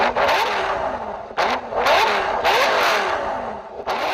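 A 5.0-litre twin-turbo V10 Audi C6 RS6 revs loudly and up close, its exhaust rising and falling through several sharp bursts with brief gaps between throttle blips.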